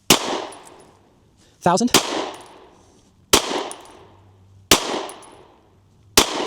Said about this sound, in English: We're going to shoot a 5-shot group, see how this performs, getting some velocity readings.